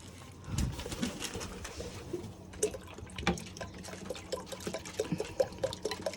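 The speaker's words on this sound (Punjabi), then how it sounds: "ਭੁੱਖੇ ਨੇ ਕਬੂਤਰ ਦਾਣੇ ਖਾਣ ਆਉਣਗੇ ਸਾਰੇ" Pigeons coo softly in low, repeated murmurs while pecking at scattered grain, with light tapping sounds nearby; no one speaks.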